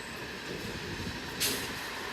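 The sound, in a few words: NYC subway train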